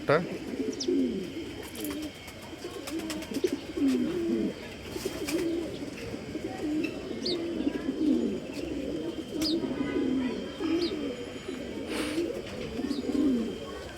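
Pigeons coo repeatedly in a rooftop loft, soft rolling calls overlapping one after another at close range, with occasional small chirps and some background activity.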